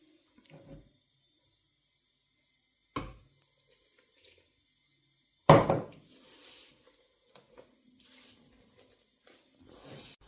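Water is poured into flour for a dough of flour, sugar and oil, heard as a few short splashy bursts separated by quiet gaps, with soft handling noises between them.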